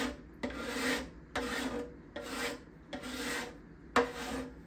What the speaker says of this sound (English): I don't want it angling the scraper while I do this.